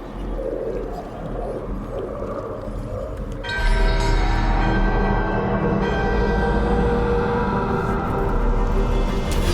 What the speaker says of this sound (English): The ritual to wake the bell will draw Despair's attention.